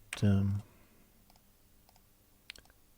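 A computer mouse right-clicks a couple of times while drawing a font in design software, brief sharp clicks near the end after a burst of speech, otherwise quiet.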